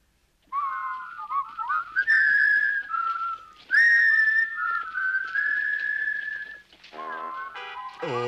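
A bright, melodic whistled tune from a Lucky Luke cartoon plays alone and close, with gliding sustained notes and short runs, then a few final chirpy phrases.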